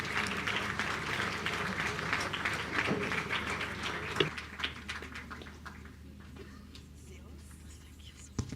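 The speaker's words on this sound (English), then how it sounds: "Let's applaud together for our comrades." Audience applause at a working-class organization conference, a steady wash of clapping filling most of the clip and thinning toward the end, with faint voices underneath.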